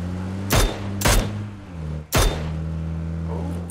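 Gunfire in a battle royale video game: three sharp, loud shots spaced apart over a steady low engine-like drone, with no talk.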